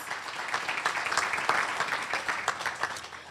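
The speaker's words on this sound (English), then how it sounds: "Please give them a round of applause" Luncheon audience applauding the board of directors at a Tiger Bay club gathering, a steady, moderately loud wash of many hands clapping that lasts throughout with no voices over it.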